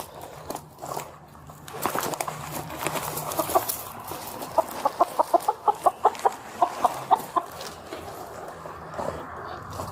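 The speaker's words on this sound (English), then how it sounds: "A whole flock of chickens had escaped from a nearby farm" A flock of chickens that escaped from a farm clucks in a rapid series of sharp, close calls, outdoors over a background of wind and movement.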